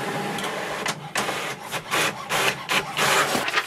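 An HP OfficeJet Pro 9015 inkjet printer runs a copy job, with rhythmic bursts of paper-feed and print-head mechanism noise, whirring and shuffling in close, moderately loud pulses with short pauses between them.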